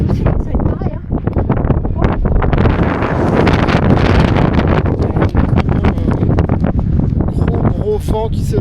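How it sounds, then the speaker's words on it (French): Strong wind buffets the microphone in a loud, continuous roar that swells and gusts, with a voice briefly heard near the end. "Gros vent qui s'est levé."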